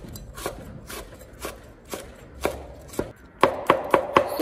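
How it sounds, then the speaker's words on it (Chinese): A knife chops bird's eye chilies into small rings on a cutting board, with spaced single knocks at first that speed into a quicker, louder run of close, crisp taps near the end. "切成小圈"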